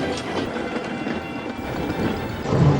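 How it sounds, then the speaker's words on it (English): Heavy trains hauled out of a rail yard, with a steady loud rumble and rhythmic clickety-clack of wheels on track, brief wheel squeal near the end, no voices. "The two engines struggled with all their might as they pulled their heavy trains out of the"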